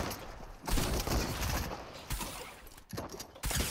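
Shotgun blasts in the video game Fortnite, several heavy broadband bursts in quick succession with short gaps between them, loud and punchy.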